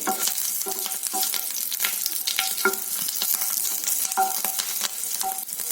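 Green chillies fry in a spoonful of hot oil for green tomato chutney, a dense continuous sizzle and spatter with small pops and occasional spoon scrapes, close and fairly loud, with no talking.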